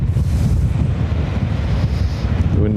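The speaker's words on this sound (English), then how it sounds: "The wind is affecting me more than the airplanes." Strong wind gusts buffet the microphone at Lanzarote Airport, a loud, continuous low rumble that runs the whole way through, with a faint tonal hum creeping in at the very end.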